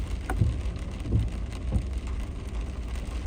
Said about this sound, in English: I'm a little bit gutted it's raining